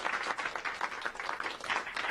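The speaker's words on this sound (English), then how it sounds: "They're applauding." A mission control room breaks into applause, a continuous crackle of many hands clapping, fairly soft and steady from start to end.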